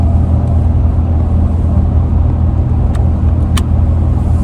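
A car drives on the road, its engine and tire rumble forming a loud, steady low drone from inside the cabin, with a couple of brief faint clicks and no talking.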